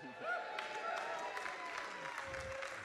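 An audience at a church digital ministry talk applauds, a dense wash of clapping and crowd noise that holds steady for a few seconds.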